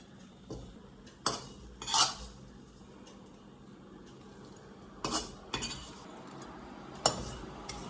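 Finished ittiyirachi, a dry-fried meat dish, stirred in a pan in a home kitchen, giving several sharp metallic clinks and scrapes of a spoon against the pan at irregular intervals over a quiet background.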